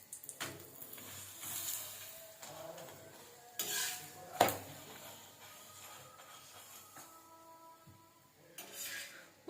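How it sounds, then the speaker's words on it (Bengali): A paratha fries in oil in a pan, with faint sizzling broken by scraping, stirring and clinks of a utensil against the pan, heard close and quiet. "এবার এটা তেল দিয়ে ভেজে নেবো"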